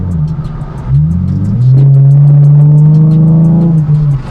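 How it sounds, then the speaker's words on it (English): A Ford Mustang engine with an Airaid cold air intake revs up with a deep, throaty exhaust note, rising and holding loud and close as the car accelerates. "And the exhaust note is deeper now because of it."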